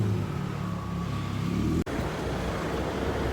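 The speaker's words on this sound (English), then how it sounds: "Traffic's heavy, so maybe you can hear me, maybe you can't" Heavy road traffic heard from the street outside a building, a loud continuous rumble of passing cars and vehicles with a brief dropout midway.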